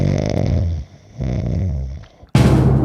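A man snoring in a room during a live sports analysis stream, two long rough rasping breaths with a pause between, followed by a sudden loud noisy burst at the end.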